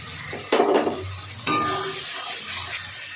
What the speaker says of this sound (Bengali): এবার আমি ভেজে রাখা আলুটা দিয়ে দেবো, দিয়ে আলুর সঙ্গে ভালো করে কষাবো মশলাটা।